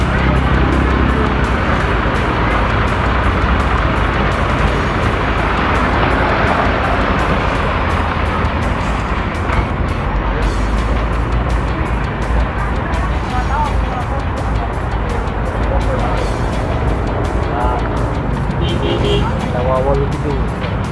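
An intercity AKAP bus, formerly a tourist coach, passes on a road in Bekasi, a loud, continuous engine and tyre roar swelling with traffic noise while people talk nearby.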